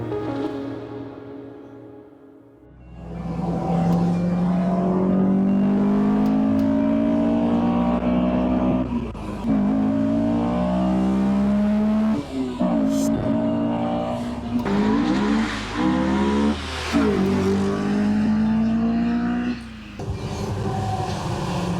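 A 2002 Honda S2000 sports car engine revs hard after a quiet start, pitch climbing and dropping through repeated gear changes, loud and close, heard with the top down.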